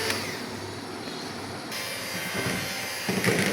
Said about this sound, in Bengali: এভাবে অল্প অল্প করে চিনি দিয়ে এগুলিকে ব্লেন্ড করতে হবে যেন চিনিটা আস্ত দানা না থাকে